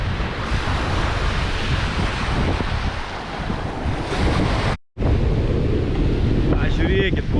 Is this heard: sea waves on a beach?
yes